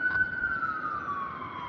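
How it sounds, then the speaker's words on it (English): A siren wails steadily in the distance, its tone slowly falling, under a continuous low rumble of traffic. "that's a loud siren."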